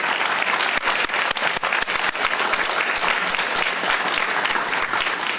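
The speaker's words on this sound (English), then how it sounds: "This is the only time of year where the students clap for the faculty." Graduates at a global health graduate commencement clap for their faculty, a loud, dense burst of crowd applause with sharp individual claps standing out, sustained throughout.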